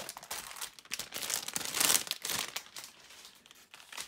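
Lego Nexo Knights blind bag packaging crinkles and crackles close to the microphone as it is torn open and unpacked, a continuous rustle that swells in the middle and then tapers off, with no talking.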